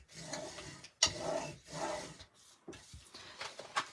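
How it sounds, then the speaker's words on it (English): Bone folder rubbed firmly across paper during varnishing in a craft project, giving several close, dry rasping strokes in bursts with brief pauses between them. "I'm going to varnish these with my bone folder"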